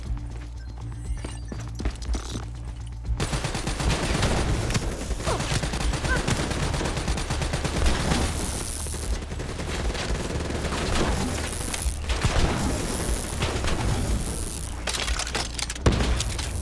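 Dense gunfire and explosive bursts in the Call of Duty Black Ops 3 campaign played on PS5, running continuously for the whole stretch after a brief quieter opening, loud and busy with rapid repeated shots.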